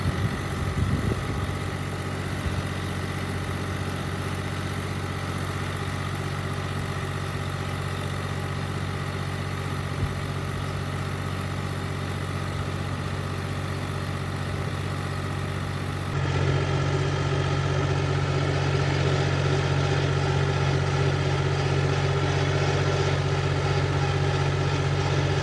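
A small 25 hp Arbos 202 tractor engine running steadily while pulling in first crawler gear at about 2 km/h during a drawbar pull test, a loud, close, constant low drone with a shift in tone partway through.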